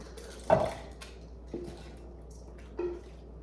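A baking mixture is poured into a dish, giving a soft wet plop followed by two fainter splats and drips, close and quiet in an otherwise still kitchen.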